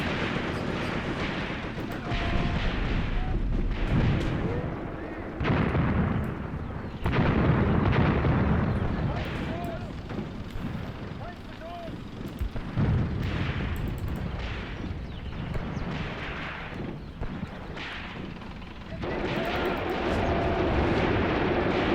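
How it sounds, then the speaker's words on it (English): Booming howitzer artillery fire in a WW2 desert battle video game, with repeated loud explosions and blasts rolling over a dense, continuous din of distant gunfire throughout. "as long as those are just howitzers and not actual tanks"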